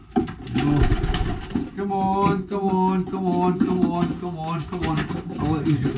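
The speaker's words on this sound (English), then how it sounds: "Yeah, so look at him, he's a lovely pigeon." Low, throaty pigeon cooing repeats steadily through the clip, close by, with someone talking over much of it.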